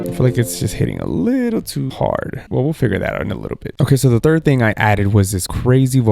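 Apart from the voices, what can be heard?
No distinct noise like a dog, phone or traffic.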